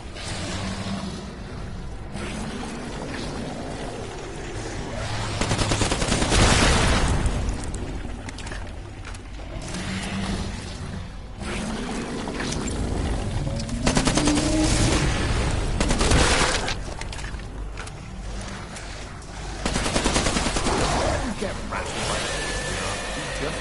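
Bursts of assault rifle fire and booming blasts in the Killing Floor VR game come in repeated loud volleys with mechanical clatter between them, while a voice talks over parts of the action.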